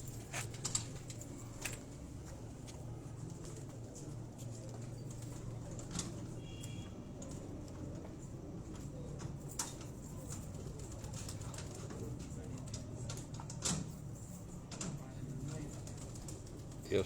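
Lakhi breed pigeon in Ustad Ashiq Hussain's loft, cooing softly and steadily at close range, with occasional wing flutters and faint background noise throughout.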